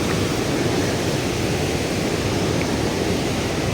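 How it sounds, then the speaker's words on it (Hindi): A mountain waterfall tumbling from high above along the Gangotri to Kedarnath trek route makes a steady, loud broadband roar of rushing water, constant and unbroken throughout with no voices. "ये देखिए, ये झरना है और बहुत ऊपर से ये आ रहा है।"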